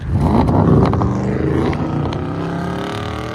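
An Audi S7 with a 4.0L twin-turbo V8 holds a loud, steady, buzzing rev as it bounces against the rev limiter, close by and continuous.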